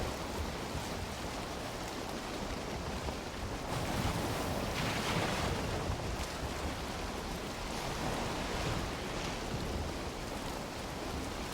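In the Valheim video game, ocean waves surge and wind rushes around a boat at sea. The sound is a dense, continuous wash that swells louder around the middle, with no speech.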